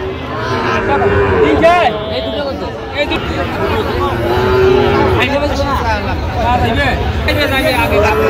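A cow moos loudly and drawn-out close by, over a busy background of crowd chatter at a cattle market in Dhaka.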